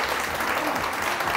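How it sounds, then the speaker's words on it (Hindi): Studio audience applause on a Hindi television morning show, a steady dense clatter of clapping filling the whole short moment, close and fairly loud with no talking over it. "तालियां बंद नहीं होंगी।"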